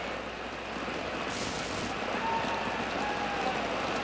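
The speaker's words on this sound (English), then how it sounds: "The noise in the grandstand of the rain on the roof was quite deafening." Heavy rain drums steadily on a grandstand roof at a 1975 rugby test match between the New Zealand All Blacks and Scotland, a dense, constant hiss that fills the clip with no voices.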